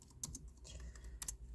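Quick bursts of typing on a computer keyboard, a few sharp clustered clicks, faint and close in a quiet room.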